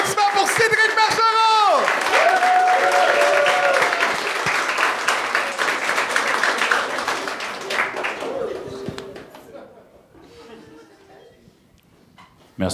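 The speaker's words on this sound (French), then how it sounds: "Un tonnerre d'applaudissements pour Cédric Marchand!" A theater crowd at a televised comedy talent show applauds loudly for a comedian, dense clapping with cheers and whoops for about eight seconds before fading to scattered claps and quiet voices.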